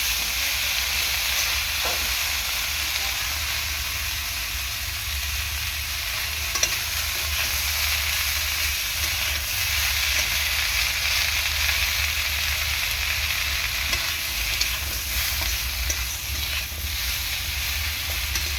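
Small mourala fish and himcha greens fry in a pan while being gently stirred, giving a continuous loud hissing sizzle with faint scraping movements and no voices.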